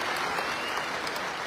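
A large audience at a public speech gives steady, dense applause, loud and unbroken for the whole moment.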